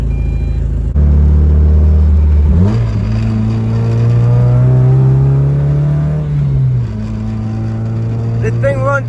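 Mazda Miata engine starts and idles, then revs up into a loud sustained drone and drops back to a steady idle, close and continuous.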